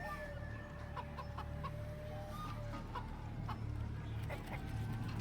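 A chicken clucks softly in Baldur's Gate 3, short chirpy clucks scattered over a constant low ambient hum, faint and without talk.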